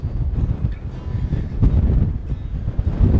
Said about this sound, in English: he says as the wind picks up